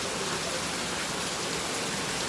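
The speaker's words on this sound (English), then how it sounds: "Oh, nice rain, lovely, lovely rain." Steady rain falling on surfaces outdoors in Jamaica, a close, even patter and hiss with no pauses or voices.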